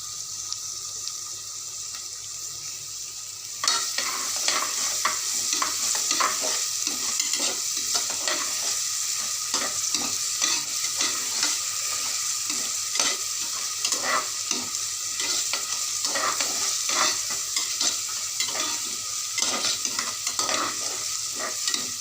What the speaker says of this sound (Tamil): இஞ்சி பூண்டு சாப்பினது அதையும் போட்டுட்டு நல்லா வதக்கணும்